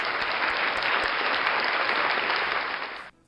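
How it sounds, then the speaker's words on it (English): A steady burst of clapping from many hands, loud and even for about three seconds before stopping abruptly. "I'll give you a round of applause."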